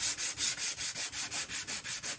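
220-grit sandpaper rubbed over small wooden offcut pieces in steady back-and-forth strokes, about ten even rasping passes at a brisk rhythm, close and fairly quiet with no talking.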